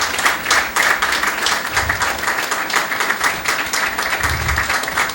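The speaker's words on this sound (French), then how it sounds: "Sous vos applaudissements" A studio audience gives sustained, loud applause for a guest arriving on a television talk magazine, dense clapping filling the whole stretch at an even level.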